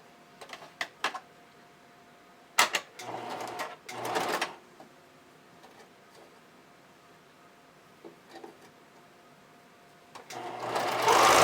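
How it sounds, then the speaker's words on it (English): A sewing machine stitches a seam on fabric for hipster panties. It starts in short separate runs of rapid mechanical whirring, then builds into a longer continuous run at the end, heard close with no talking. "I'm going to line these up and send them through my sewing machine really quick."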